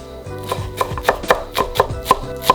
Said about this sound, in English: I'm gonna thinly slice some green onion